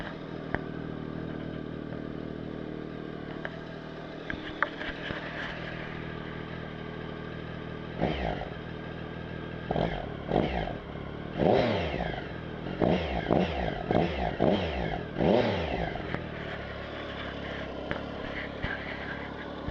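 Triumph Tiger Sport motorcycle idling steadily, then sharp throttle blips send the engine revving up and falling back several times, loud and close.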